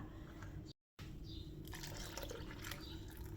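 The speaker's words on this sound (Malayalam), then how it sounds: "ഈ മിക്സിയുടെ ജാറിലോട്ട് ഒരു കപ്പ് കൂടി വെള്ളം ഒഴിച്ച് കൊടുത്തിട്ട് നല്ലവണ്ണം ഒന്ന് കലക്കിയിട്ട് ഇതിലോട്ട് ഒഴിച്ച് കൊടുക്കുക" Water poured into a mixer grinder jar while preparing rice batter for palappam, a steady close splashing pour with a brief dropout partway through.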